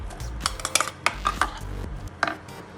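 Chaat masala, black salt and onion mixed in a bowl with a metal spoon, giving a quick run of close clinks and scrapes against the bowl with no voices.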